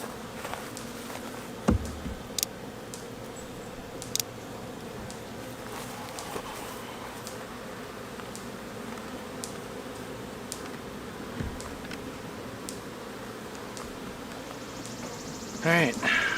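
Honeybees hum in a dense, steady buzz from an opened BeeCastle beehive, close and continuous, with occasional clicks and knocks of frames being handled and a voice talking over it.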